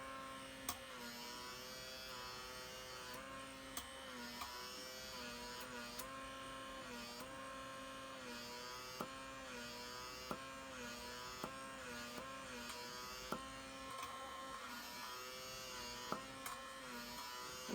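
A microdermabrasion suction device running over a man's face, giving a steady electric motor hum with a buzzing tone and faint small clicks, close and continuous, with no talking.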